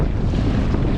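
Ocean waves slapping against the side of a canoe out at sea, a loud, continuous wash of water and wind buffeting, with no clear breaks.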